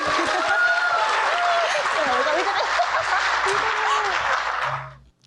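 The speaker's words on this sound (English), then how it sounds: "let's just give one more last round of applause for Jullianne De La Cruz." Audience clapping after a performance at an online live showcase of visual and performing arts, a dense, steady round of applause with faint murmurs that fades out toward the end.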